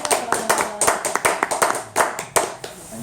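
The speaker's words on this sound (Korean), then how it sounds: "다시 한번 박수 주십시오." Church audience clapping to welcome a pastor, a sparse, uneven patter of individual hand claps from a small group, distinct separate slaps rather than a dense roar, close and moderately loud.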